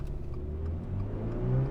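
A Toyota GR86 in track mode launches hard from a torque-braked start, its mid-pitched engine droning steadily and climbing in pitch through a brief full-throttle run, close and continuous with no talk.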